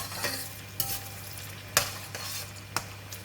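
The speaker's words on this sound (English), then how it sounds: "We're going to fry the shallots until" Shallots fry in hot oil with a steady crackling sizzle, broken by a few sharp clinks and scrapes from stirring. No one speaks.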